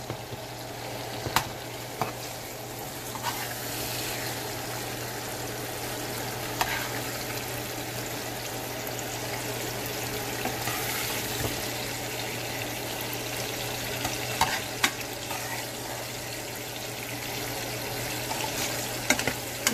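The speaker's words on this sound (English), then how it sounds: "this time my chicken is boiling." A pot of boiling chicken bubbles and simmers steadily with a continuous low hiss, faint clicks and pops scattered throughout.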